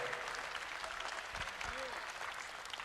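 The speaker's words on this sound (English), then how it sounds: "A big round of applause to our 2 astronauts here." An audience applauds two visiting astronauts at the close of a dialogue session, a steady wash of clapping hands at moderate distance with faint talk mixed in.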